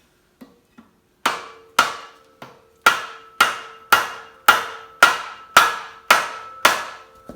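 Hammer blows drive the axle onto its spline on an old Ford: two light taps, then about a dozen sharp, ringing metallic strikes at a steady, regular pace. They are loud and close, with no talk.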